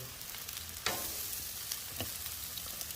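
Shrimp sizzle loudly in marinade on a Blackstone flat top grill, a steady close frying hiss broken by a few sharp spatula scrapes and stirring clicks, with no talking.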